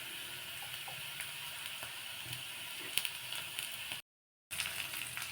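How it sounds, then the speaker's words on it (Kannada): Onion frying in oil for a red chilli chutney: a steady, close sizzle and hiss with faint crackles throughout, briefly cut off near the end before resuming. "ಈರುಳ್ಳಿ ಸ್ವಲ್ಪ ಚೆನ್ನಾಗಿ ಎಣ್ಣೆಲಿ ಫ್ರೈ ಆಗಲಿ"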